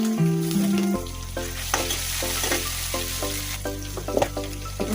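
Cumin seeds sizzle loudly in hot oil for a bottle gourd curry, with ginger and garlic already in the pan. A steady, close frying hiss runs throughout with light stirring scrapes on top.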